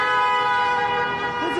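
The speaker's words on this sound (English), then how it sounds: "Freedom is what many Iraqi exiles around Detroit were honking their horns for." Car horns honk in a sustained, blaring chorus as Iraqi exiles around Detroit celebrate the fall of Baghdad, loud and continuous with overlapping tones and a siren-like wail near the end.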